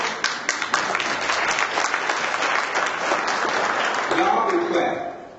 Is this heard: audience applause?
yes